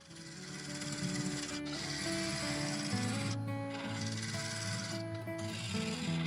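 A skew chisel and carbide cutter scrape an oak and blue epoxy resin bowl on a lathe, giving a continuous rasping rub over a droning motor tone, with a couple of short breaks in the cutting.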